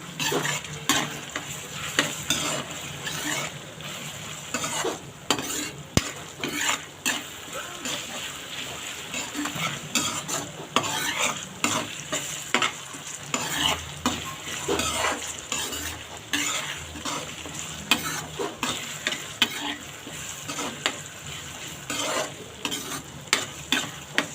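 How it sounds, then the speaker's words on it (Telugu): Ginger garlic paste sizzles steadily in a pan while a spoon scrapes and stirs it in repeated strokes, with clinks of metal cookware, all close and fairly loud over about twenty-four seconds. "అల్లం వెల్లుల్లి పేస్ట్ అయితే వేసుకున్నాం కదండి చక్కగా పచ్చివాసన లేకుండా అయితే వేయించుకున్నాం"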